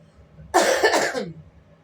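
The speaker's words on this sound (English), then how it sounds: "Excuse me for coughing." A single rough, raspy cough, close and fairly loud, trailing off into a breathy exhale.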